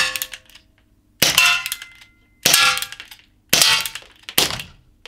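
An EKOL ES P66 CO2 pistol fires 4.5 mm steel BBs, giving four loud, sharp cracks about a second apart, each with a bright metallic ring that fades out.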